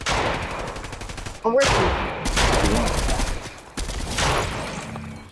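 Sustained automatic gunfire in the Fortnite video game, loud and close, coming in long bursts broken by short gaps, while players talk over the shooting.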